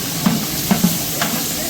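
Ginger-garlic paste sizzles in a pan with masala, a steady close frying hiss broken by a few soft stirring scrapes and clinks.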